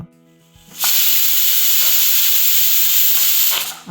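After a low hum, a pressure cooker cooking mutton soup abruptly releases a loud, sustained whistle-hiss of steam for about three seconds, then it cuts off.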